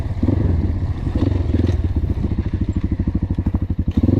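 A KAYA 612 motorcycle accelerates while being ridden, its engine pulsing in a rapid, throaty rhythm that quickens and grows choppier as the throttle opens, loud and close throughout.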